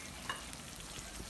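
A fish curry is stirred in the pot after water is added, giving a soft, brief scraping and gentle simmering sizzle, quiet and close with no talking.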